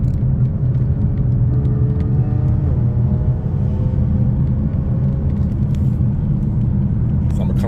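Audi A6 3.0T with test pipes and a Stage 2+ tune driving through a tunnel: a loud, steady exhaust rumble and drone that holds throughout, with a brief rise in pitch partway through.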